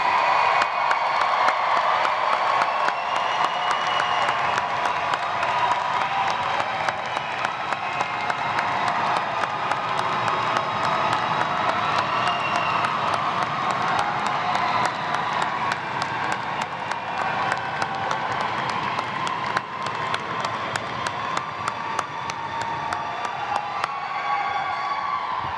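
A large crowd at a fall university graduate ceremony applauds and cheers the graduates, with dense, continuous clapping, whoops and shouts that stay loud and steady throughout.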